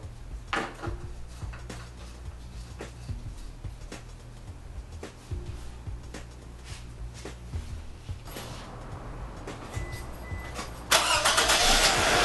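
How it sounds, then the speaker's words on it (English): The 2AZ-FE engine of a 2006 Scion tC sits close by, with a low idling rumble broken by clicks and clunks, and a louder burst of noise at the very end. "run the engine for a good couple minutes"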